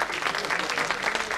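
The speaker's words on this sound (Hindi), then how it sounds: "एक बार जोरदार तालियों के लिए भी हमारे लिए और खासकर हमारे म्यूजिक डिजाइनर्स के लिए एक बार जोरदार" Steady burst of audience applause at a live music and poetry performance, dense and continuous clapping from a crowd, fairly loud throughout with no voices over it.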